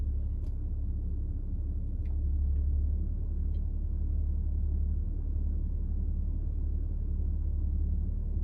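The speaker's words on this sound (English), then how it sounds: "right now I'm driving this Audi Q7" An Audi Q7 cruises with a steady low road rumble heard from inside the cabin, a continuous hum and occasional faint ticks, with no talking.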